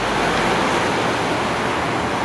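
Sea waves wash onto a beach in Turkey in late September, a steady loud broadband roar of surf with wind rush close to the microphone and no voices.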